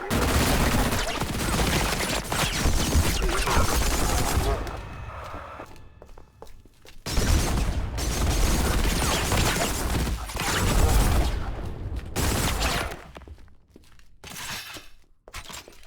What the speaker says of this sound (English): we're just going to shoot out this fusion core